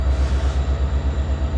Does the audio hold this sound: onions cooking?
no